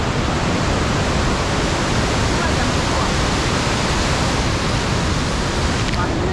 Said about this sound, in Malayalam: ആറ്റുകാട് വാട്ടർഫാൾസിൻ്റെ കാഴ്ചകളാണ് കണ്ടത്